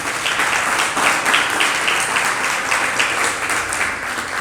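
An audience at a religious discourse class bursts into loud, sustained applause, a dense continuous wash of many hands clapping from start to finish with no talk over it.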